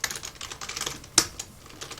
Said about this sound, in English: Not the very best at typing today.